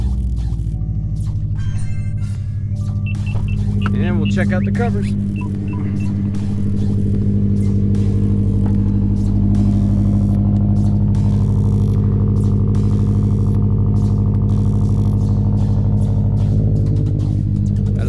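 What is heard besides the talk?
car engine starting and idling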